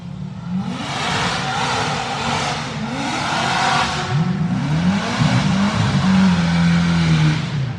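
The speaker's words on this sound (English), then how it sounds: "Got a Corvette in the left lane against 5th Gen Camaro in the right." A Corvette and a fifth-generation Camaro launch side by side in no-prep heads-up grudge street racing, engines roaring loudly and climbing in pitch through rapid gear changes, the revving building steadily as they pull away.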